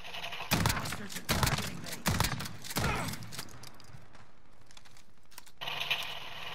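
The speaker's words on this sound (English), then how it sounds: "sentry shooting from the first floor" An automated sentry gun fires from a garage in a Call of Duty match, a string of loud, sharp bursts in the first three seconds, then quieter distant popping.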